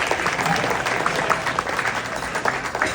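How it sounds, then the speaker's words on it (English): Wedding guests at a casino reception applaud the bride and groom, a steady wash of clapping from a crowd in a large room, with scattered cheers and voices under it. "let's clap it up for the bride and groom one more time here"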